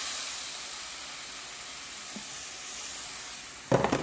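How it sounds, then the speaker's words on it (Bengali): Vegetable stalks frying in a kadai with garlic paste make a faint, even sizzle throughout, ending in a brief burst of louder clattering sizzle. "এবার আমি ডাটাগুলো দিয়ে দিব ডাটার কড়াইয়ের মধ্যে"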